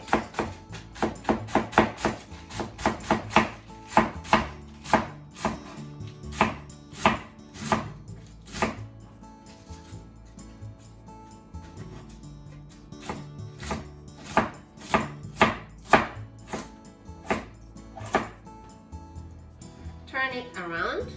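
A knife chops through cabbage into thin strips on a board for gyoza hot pot, giving quick rhythmic knocks in fast runs with short pauses in between. The cutting is close and crisp.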